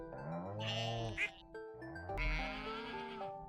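Goat bleating in the farming game Stardew Valley, two loud, wavering cries heard alone, close and clear, one after the other with a short gap between them.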